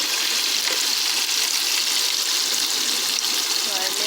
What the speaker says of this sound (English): Now we will add the garlic and the onion first.